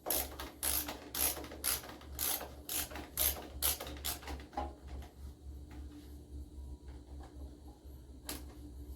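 A ratchet wrench clicks steadily while tightening a bolt on the carburetor of a John Deere tractor, a fast run of loud, close pawl clicks that stops midway, followed by quieter shop sounds and a single late click.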